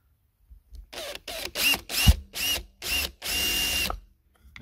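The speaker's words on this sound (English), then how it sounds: "Great drill bit this is." A power drill with a step drill bit bores holes in an old street lamp under restoration, running in seven separate bursts that grow longer, the last one sustained, with short pauses between.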